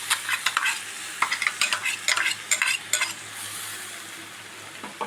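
Tomato puree being stirred into a sizzling roast in a pan, with a spoon scraping in uneven bursts over a steady frying sizzle that fades toward the end.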